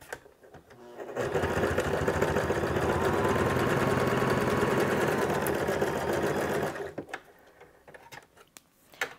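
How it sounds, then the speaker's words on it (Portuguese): A domestic sewing machine stitches synthetic leather using two threads, a loud, fast, steady mechanical run of about five and a half seconds with quieter handling noises before and after. "Então eu coloco duas linhas e eu vou costurar para vocês poderem ver"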